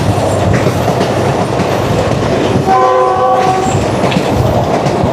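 A heritage safari train from Rawalpindi to Attock Khurd runs at high speed, loud rumbling wheels and clickety-clack on the track filling the scene, with a brief tonal horn sounding midway.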